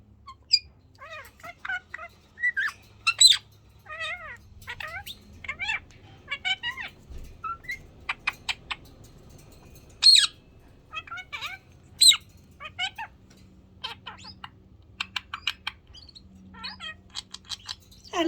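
A yellow budgie chirps and squawks in close, irregular bursts of short whistled calls with quiet gaps between them, alone without any talking.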